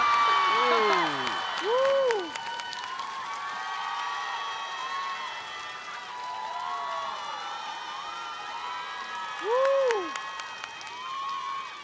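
A television singing-competition audience applauds and cheers for a singer, a broad wash of clapping under loud voices and high sliding whoops and shouts, swelling again near the end.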